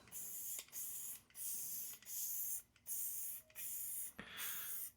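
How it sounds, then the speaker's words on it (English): Short bursts of spray from an aerosol can of Easy Man's Finish shellac coating small wooden pocket crosses, about six hissing blasts in a steady on-off rhythm, close and alone. "we're gonna shoot these with good old Easy Man's Finish, a shellac"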